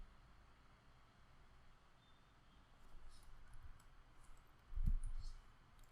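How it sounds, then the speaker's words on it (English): A single quiet computer mouse click on a code editor's run button sounds near the end, over faint steady background hiss. "So let's click on run code."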